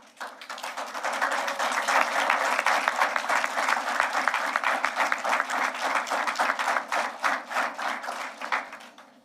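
A crowd applauds at a Bermuda Fire and Rescue Services passing out parade, with many hands clapping in a steady, dense rhythm that swells and then tapers off toward the end.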